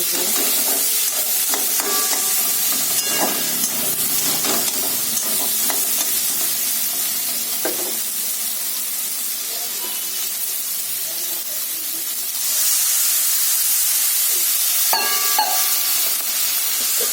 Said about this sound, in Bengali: এই তরকারিটা এখন বসিয়েছি